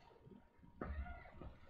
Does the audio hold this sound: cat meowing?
yes